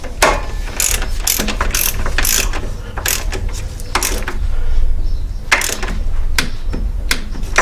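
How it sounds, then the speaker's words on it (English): Torque wrench clicking and ratcheting while tightening three water pump bolts into aluminum threads on a Jeep inline-six or 2.5L four-cylinder engine, a quick series of close, loud ratchet bursts in a steady working rhythm. "I'm using a torque wrench here."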